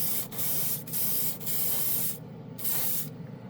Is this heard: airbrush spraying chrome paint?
yes